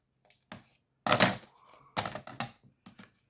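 A small paper square is cut for a handmade card: quiet, separate crisp cutting bursts in an otherwise still room, one long snip followed by several shorter ones.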